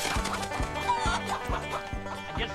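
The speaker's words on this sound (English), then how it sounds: "Chicken! He's coming! Oh, cockerel." A rooster or cockerel clucking in short, rhythmic bursts beneath music, fairly loud and close, with no talk.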